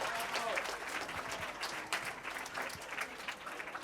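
A crowd claps steadily at a donation event at Maria Primary School, Grafton, Sierra Leone, dense applause from many hands with some scattered voices mixed in.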